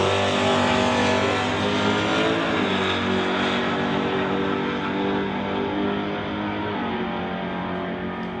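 Drag racing cars, a 1969 Mustang and a 1968 Dart, roar loudly down the strip in an NHRA Summit ET bracket race, engines blaring with dense harmonic droning and shifting pitch throughout.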